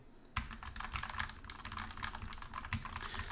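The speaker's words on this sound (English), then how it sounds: "now I'm gonna type on my keyboard and you'll be able to hear it" Quick, continuous typing on a computer keyboard, a dense clatter of key presses close to the microphone, quiet but steady, with no talking.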